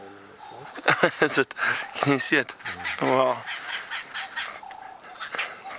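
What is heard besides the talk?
babblers mobbing a snake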